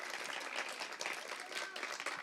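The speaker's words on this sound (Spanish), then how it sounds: "Más fuerte el aplauso." A crowd at a Women's Day celebration claps in dense, steady applause throughout, with a few voices mixed in underneath.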